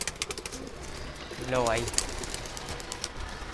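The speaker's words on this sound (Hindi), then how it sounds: "सारे कबूतर मैंने निकाल दिए हैं।" Pigeons in a loft coo and shuffle amid soft rustling and tapping, with one clear rising call in the middle while someone speaks briefly.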